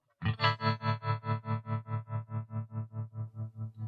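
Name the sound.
Donner Alchemy guitar pedal, tremolo-like effect in mono mode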